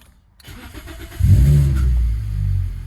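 A 2005 Toyota Corolla XRS cranks briefly, then catches and fires into a loud, steady idle with a deep low rumble that settles and continues to the end.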